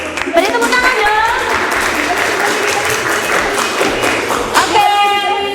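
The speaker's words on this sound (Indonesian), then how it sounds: "Beri tepuk tangan dong" A classroom full of people applauds steadily during an Indonesian teaching practice lesson, with dense clapping, scattered thumps and faint voices mixed in.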